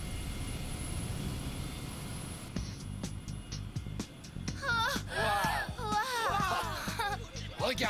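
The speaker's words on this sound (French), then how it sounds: "Regardez tous ces avions." Airplanes fly past in the Beyblade anime, a broad roaring engine rumble that fills the scene, followed by whooshing bursts and chirpy synthetic sounds overlapping near the end.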